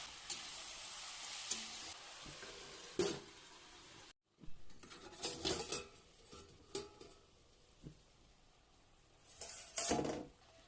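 Chopped vegetables hit a hot pan with onion, salt, turmeric and cumin, sizzling faintly while a utensil stirs and scrapes against the pan in scattered clicks and clatters.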